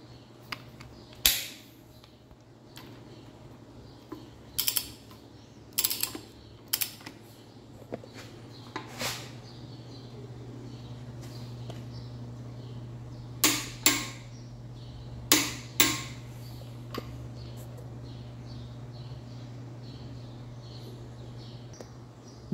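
A torque wrench tightens the gear nut on a Yamaha 250 engine, giving a series of sharp close metallic clicks in small bursts spread over about twenty seconds, over a faint steady hum, no talk.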